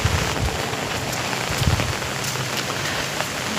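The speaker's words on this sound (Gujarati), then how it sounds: "અત્યારે ઝરમર ચાલુ જ છે વરસાદ. પવન પણ ફૂલ છે." Steady drizzle pattering over castor fields, driven by strong gusting wind that buffets close by, a dense continuous hiss with low rumbling gusts and no voices.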